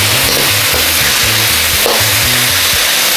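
Pork stir-frying in a pan with sugar and chili flakes, a loud, constant sizzle with scraping and stirring strokes repeating in a steady rhythm, up close and with no voices.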